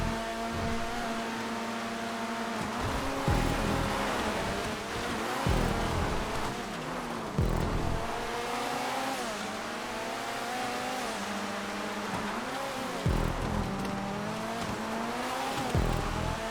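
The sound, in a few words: race cars driving in the video game GTA 5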